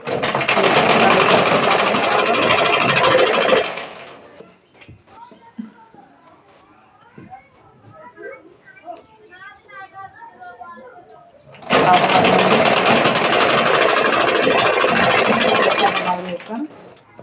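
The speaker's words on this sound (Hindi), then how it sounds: "फिर ऐसे सिलाई लगाएंगे।" A sewing machine stitches piping onto a blouse in two loud steady bursts, about four seconds and five seconds long, with a quiet stretch of soft handling and speech between them.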